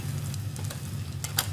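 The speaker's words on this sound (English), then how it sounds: "Starting to hear this sizzle" Cabbage sizzling in a hot pan on a home kitchen stove, a steady close frying hiss with a few small crackles and ticks, and no voices over it.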